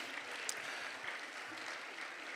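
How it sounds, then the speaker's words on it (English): An audience applauds students at a mayor's education awards ceremony, a soft, even patter of clapping heard from a distance with no other sound. "a round of applause for each of these students"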